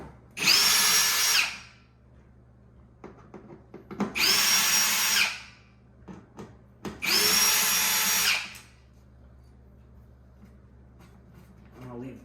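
A power driver with a Torx bit backing screws out of a Maytag dishwasher, three separate loud whirring bursts of about a second each, with quieter clicks and handling noises between them.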